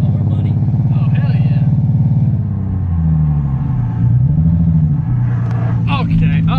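A lowered car drives off with its engine rumbling loudly up close, revving and shifting pitch as it pulls away, while people talk over it.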